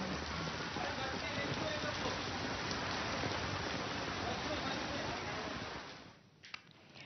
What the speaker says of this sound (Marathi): वसई विरारमध्ये सुद्धाही मुसळधार पाऊस पडतोय